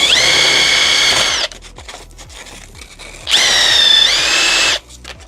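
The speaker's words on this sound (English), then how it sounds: "here I have to grind a little bit more at the back" A rotary grinder working on a rear axle subframe part of a 2002 Mini Cooper S Cabrio, two loud sustained whining bursts separated by a quieter pause, with the pitch dipping under load.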